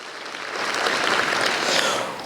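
Audience applause at a university presidential lecture for a state representative asked to stand, a broad wash of clapping that swells in the middle and holds steady, heard alone.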